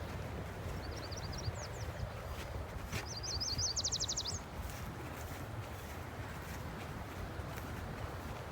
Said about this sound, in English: Just hear the birds and the crickets.